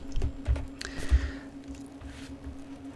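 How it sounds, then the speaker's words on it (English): Computer keyboard typing a web address into a browser, a short close burst of soft key clicks with a few louder taps, fading to a quiet hum with no voices. "I'm just going to go on to a browser and type in"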